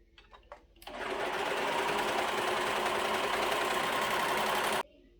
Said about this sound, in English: You're going to take this to your machine and you're going to sew your short end together.